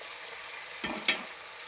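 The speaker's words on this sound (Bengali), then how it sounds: "দিয়ে এটাকে একটু ভাজা ভাজা করে নেব।" Onions fry with salt and turmeric in a pan, a faint steady sizzle with two brief stirring scrapes near the middle; no talk.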